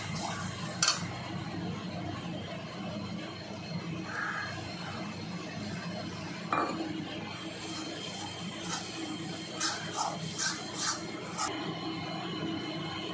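Onions and masala powder are stirred in a pan for paneer butter masala, with a soft continuous sizzle and scattered spoon scrapes and clinks against the metal.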